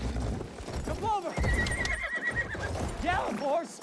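Horse hooves clip-clop and a horse whinnies during riding in Battlefield 1, with someone shouting commands over the hoofbeats and game noise.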